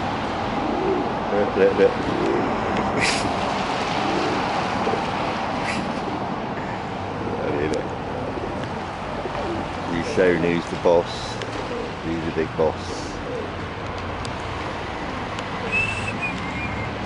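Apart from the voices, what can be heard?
bird singing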